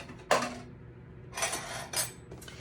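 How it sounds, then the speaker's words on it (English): A whisk beats a jerky marinade base in a bowl, giving three short bursts of clinking metal-on-bowl strokes separated by quiet pauses. "And then we'll go ahead and whisk that up a little bit."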